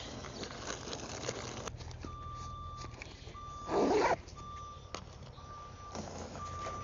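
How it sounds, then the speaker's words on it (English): A large truck idles right beside an outdoor painting spot, its reversing alarm beeping in a steady repeated pattern at close range, with a brief louder engine surge partway through. "All of a sudden there's a loud truck right next to me."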